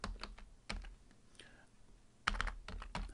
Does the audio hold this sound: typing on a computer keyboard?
yes